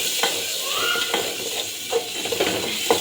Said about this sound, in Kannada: ಚೆನ್ನಾಗಿ ಎಣ್ಣೆಯಲ್ಲಿ ಕೆಂಪುಗಾದ್ಮೇಲೆ ರುಬ್ಬಿರುವಂತಹ ಮಸಾಲೆನ ಅದರೊಳಗಡೆ ಹಾಕಬೇಕು